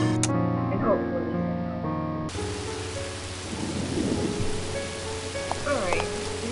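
Steady rain falls in a rainy video game scene, a broad hiss that swells after a short musical passage, with occasional low thunder-like rumbles and brief tonal game sounds layered over it.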